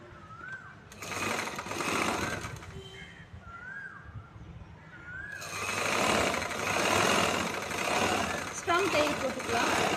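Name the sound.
sewing machine stitching chudithar shoulder seam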